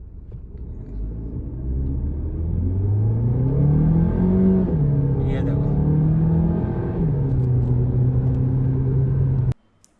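An engine revs as a car accelerates hard in race mode, the note climbing and holding steady in a loud, close drone, then cutting off abruptly near the end.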